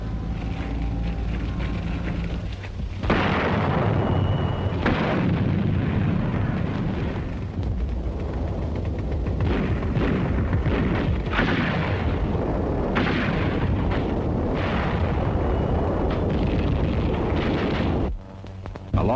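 Chinese artillery trained by the American Army in Burma firing on enemy positions, heavy rumbling booms and sustained roar rolling continuously at close range with no talk.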